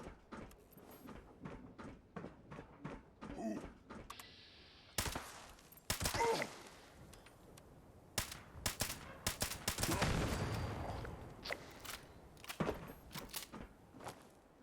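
Gunfire from shooting at enemies in Fallout 76: rapid bursts of sharp shots, some in quick automatic runs, others spaced, loud and close with game ambience between volleys.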